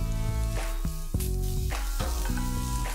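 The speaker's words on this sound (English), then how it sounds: "Once this is sautéed and ready, I'm adding in the onion rings." Onion rings and capsicum slices sizzle steadily in a hot pan, with a continuous loud fry broken by a few stirring clatters and no talking.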